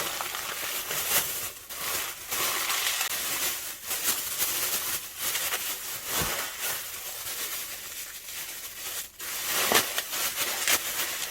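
Dried gimbap seaweed sheets crushed by hand inside a plastic bag, giving a soft, continuous crinkling and crackling rustle up close, with brief sharper crackles scattered through.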